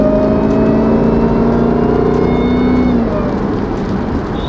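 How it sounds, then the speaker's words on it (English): Supercharged BMW engine heard from inside the car as a steady loud drone, with a sustained high supercharger whine sitting above it and slowly dropping in pitch, easing slightly toward the end. "the supercharger whine in this car sounds nuts"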